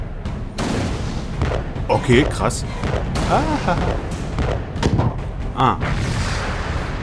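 Ship cannons boom repeatedly in the naval shooting section of Alice: Madness Returns, heavy irregular blasts with rumbling tails, while someone talks and reacts over them.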